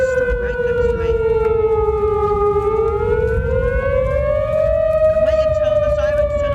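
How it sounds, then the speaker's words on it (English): A tornado warning siren wails continuously during a storm in Wales, its tone slowly falling then rising again, loud and sustained over a rumbling background. "But I heard the sirens go off"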